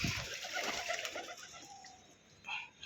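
Pigeons gathered at a water tray for bathing, soft cooing and bird calls close by with faint splashing and flutter, quiet overall with a brief louder burst near the end.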